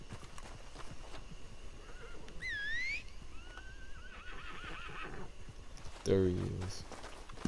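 In Red Dead Redemption 2, an Ardennes horse gives two rising whinnies and a wavering neigh, then a deep snorting bray, with hoof clip-clops scattered throughout and someone speaking briefly over it.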